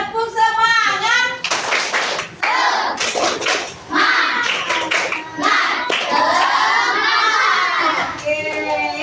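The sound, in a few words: children doing a rhythmic spirit clap in class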